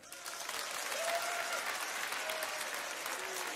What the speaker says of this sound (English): Let me hear the men clap that are loyal to their women.